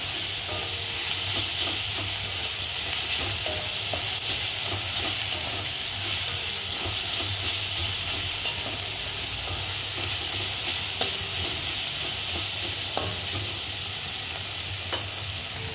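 Onion and tomato frying in a pan with turmeric give a dense, continuous sizzle and hiss, close and even in level, with occasional faint knocks from stirring.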